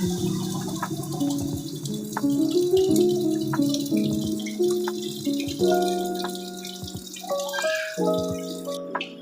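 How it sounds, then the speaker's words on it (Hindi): Water poured into a pot of boiled rajma (kidney beans) before pressure cooking, a steady close splashing pour with dripping, running alone without talk. "अब हम इसके अंदर डाल रहे हैं पानी"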